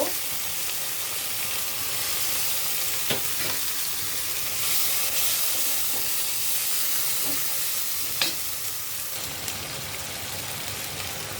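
Ginger, garlic and onion paste fries in hot oil for a fish curry, giving a continuous loud sizzle and hiss with occasional sharp pops and spatters, and no talk.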